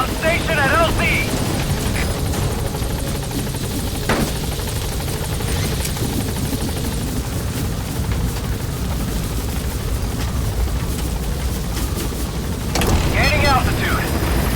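Helicopter approaching a landing zone in the video game Metal Gear Solid V, its rotor thudding loudly and steadily throughout with in-game radio voices over it.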